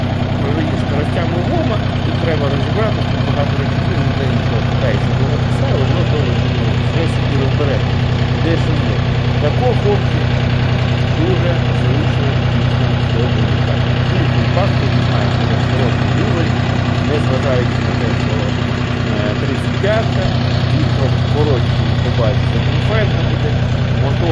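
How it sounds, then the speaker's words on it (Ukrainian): A DTZ 354U diesel tractor engine idles steadily for a long stretch, a loud, even low chugging hum with voices faintly underneath. "як мотор розвивається, він має працювати рівно"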